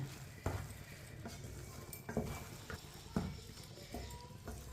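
Mash daal with fresh coriander being stirred in a pot: a ladle scrapes and knocks against the metal in irregular clanks and thuds, close and moderately loud over a soft background hiss.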